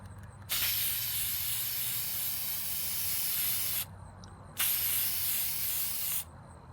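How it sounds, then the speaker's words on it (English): A spray can hisses as it lays a coat onto one side of a laser-engraved piece, two long steady bursts separated by a short pause, loud and close. "spray this side"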